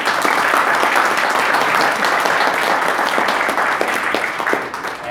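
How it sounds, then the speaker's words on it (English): Graduation ceremony audience at Alexander College applauding graduates, a dense, steady wash of many hands clapping at full volume throughout. "applaud their achievements"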